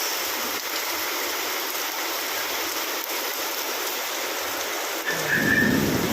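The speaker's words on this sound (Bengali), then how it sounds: "ও হো বাবারে কি গর্জন করছে মেঘ" Steady heavy rain pours throughout, with a deep rumble of thunder rolling in near the end.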